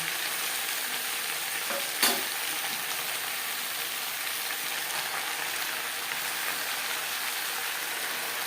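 Shredded cabbage fries in a pan for a traditional Bengali cabbage ghonto made with little oil and spice, a soft steady sizzle with a single sharp clatter near the start.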